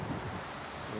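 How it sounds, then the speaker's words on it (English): Strong wind blows outdoors at a car tuning shop, a steady broadband rush buffeting the microphone for a brief moment with no voices. "It is super windy, sorry."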